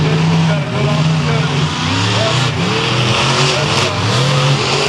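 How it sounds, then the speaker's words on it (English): Monster trucks, including Bigfoot, roar off the starting line at a Thunder Drag race in Indianapolis, with loud, sustained revving engines throughout and an announcer talking over the din. "Look at how hard those guys left the starting line."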